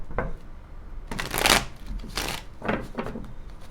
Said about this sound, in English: Alright, one more shuffle.